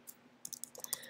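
Typing on a computer keyboard produces a quick, quiet run of sharp key clicks, about a dozen taps in just over a second, clustered more densely toward the end.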